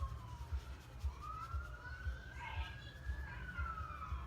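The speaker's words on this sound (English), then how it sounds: "Oh, I hear a siren outside." A siren wails outside, faint and distant, its tone rising and falling slowly under a steady low rhythmic thumping nearby.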